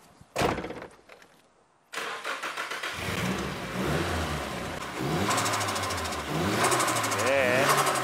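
A Nissan 180SX engine cranks and catches after a brief quiet, then runs loud and close with rough idling and repeated revs. People talk over it.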